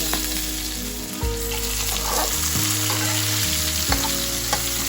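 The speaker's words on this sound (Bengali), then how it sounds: "দু মিনিট মতো আলুগুলো ভেজে নিয়ে" Chopped potato, cumin and green chili fry in hot oil with a loud, steady sizzle, punctuated by a few stirring scrapes, close up and without talking.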